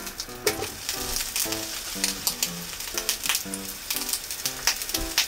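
Green onions frying in sesame oil, a close, busy sizzle with sharp crackles and pops repeating throughout over light background music.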